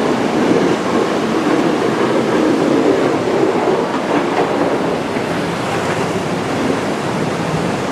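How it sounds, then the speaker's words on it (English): The floodwater of the San Gabriel River after heavy rain roars loudly and steadily up close, a continuous rushing churn; no distinct booms from rolling boulders stand out. "every once in a while you hear a big boom. It sounds like thunder in the distance. It's huge boulders getting rolled."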